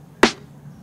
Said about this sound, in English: The high snare sounds like this